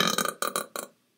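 A loud, close burp after drinking soda rolls out in several rough, croaking pulses, then stops abruptly into silence.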